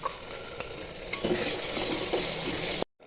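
Onions sizzling and frying in a pan, with a utensil stirring and scraping through them, close up, until the sound cuts off abruptly.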